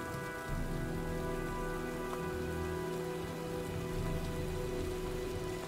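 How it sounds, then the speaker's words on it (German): Steady, dense rainfall and storm ambience from the video game Heavy Rain, a continuous close hiss of rain on surfaces with a low rumbling undertone, unbroken and with no voices. "sieht nach einem Sturm aus. Ich gehe lieber nach Hause."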